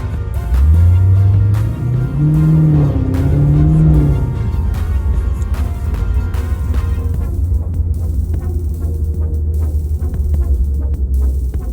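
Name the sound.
2019 Dodge Charger Hellcat engine revving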